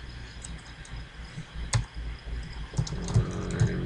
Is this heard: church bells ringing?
no